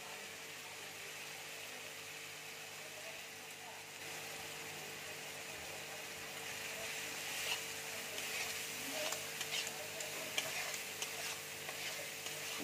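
Kashmiri chili masala with tomato and salt sizzles steadily in a pan while being stirred, a quiet continuous frying hiss with soft scraping that grows slightly busier toward the end, no voices.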